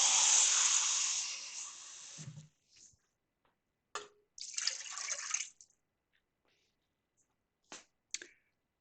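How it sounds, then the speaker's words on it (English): Water pours into a pot of chicken rice soup in a steady, hissing stream for about two seconds, followed by a second longer pour and scattered drips and clinks, all close and fairly quiet. "I'm just going to add a little bit more water just so we have enough"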